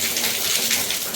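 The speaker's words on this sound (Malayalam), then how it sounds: "നല്ല അടിപൊളിയായിട്ട് ചെറിയ മഴയുണ്ടോ, അതായത് ഭയങ്കര സ്പീഡിൽ പെയ്യുന്നില്ല." Light rain falls into the open central courtyard of a Kerala house, a soft, steady, even hiss of drops with no voices.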